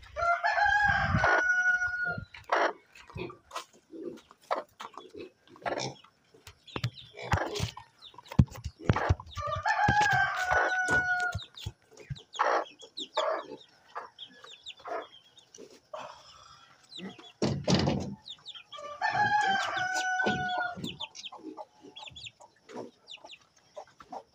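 Chicks and chickens clucking and crowing nearby, with repeated rooster crows over busy, irregular clucks and peeps.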